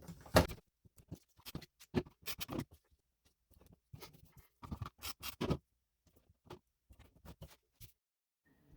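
Paper scraps being trimmed for a scrapbook page, with short irregular bursts of snipping and rustling close by, separated by brief pauses, and no talking.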